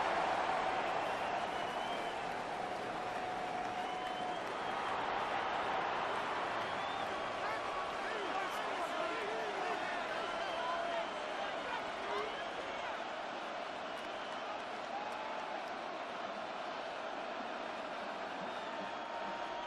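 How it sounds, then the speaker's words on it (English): The Buffalo stadium crowd in the Madden 26 football video game gives a continuous, moderately distant roar and murmur, with a game commentator talking over it. "The Buffalo crowd being heard before third down."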